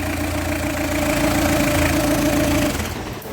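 The 1.9 engine of a Peugeot Partner idles loud and close in a steady, rough drone with a knocking undertone, then fades slightly near the end.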